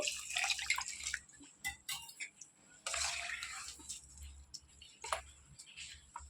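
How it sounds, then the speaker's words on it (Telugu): Water poured into a bowl of wheat rava and yogurt batter for gourd dosa, heard as uneven splashing and dripping bursts in two main pours with short pauses, close and fairly quiet, no talking. "తర్వాత వాటర్ పోసి కలిపేసుకోవటమేనండి"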